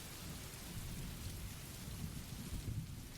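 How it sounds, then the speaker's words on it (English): Steady rain pours on a surface with a low rumbling thunderstorm underneath, a continuous, even wash of sound playing quietly in the background with no voices. "it's a 5-hour video with nondescript rain sounds that I'm playing"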